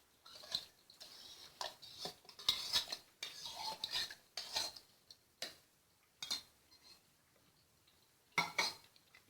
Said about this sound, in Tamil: எடுத்துருக்கிற ஐஸ் க்யூப்ஸ் போட்டுக்கிறேன்